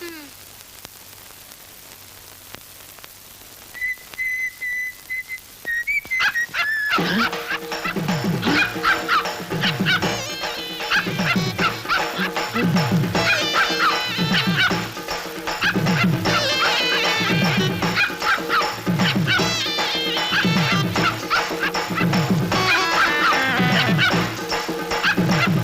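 A dog barks in rapid, repeated bursts for most of the clip, loud and close, after a quiet opening with a brief tone, while people talk and shout around it.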